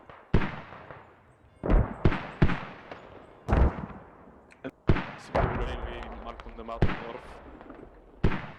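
Mortar rounds slam down in the military shooter Squad during a competitive 36-versus-36 match on the Narva map, with a string of sharp, heavy explosions at irregular intervals, some near and loud, others softer.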